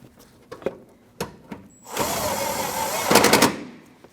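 Working on a 2014-2023 Jeep Cherokee, a power tool drives an 8mm fender bolt in a buzzing burst of about a second and a half, followed by a harsher rattling spurt, after a few light clicks and taps nearby.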